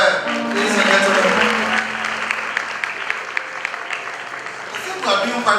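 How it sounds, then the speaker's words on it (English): An audience at a graduation ceremony applauds with sustained clapping, with voices and speech over it and a few louder claps standing out. "Another round of applause for her, ladies and gentlemen."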